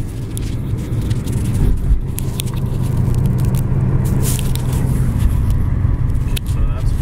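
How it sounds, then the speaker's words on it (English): A loose heat shield rattles beneath a BMW E46 325i on the road: scattered tinny clicks sit inside a loud, steady low rumble of engine and tire noise that runs the whole time. "Sound exactly like a heat shield, just rattling around"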